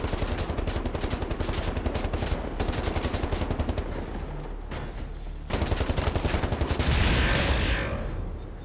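Rapid automatic gunfire from a weapon in the shooter Wolfenstein: The New Order rattles in long, dense bursts with a brief lull, then swells louder and heavier toward the end.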